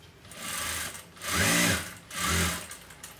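A sewing machine stitching a boat neck blouse, two or three short close bursts of whirring needle motion with brief pauses between them, no talk.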